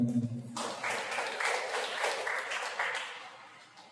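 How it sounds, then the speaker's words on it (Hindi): Congregation applause at a Sunday church service for a member's birthday, a short burst of clapping starting after a brief voice, moderately loud and fading toward the end. "कृपा उनके जन्मदिन के लिए जोरदार तालियां आ जाए"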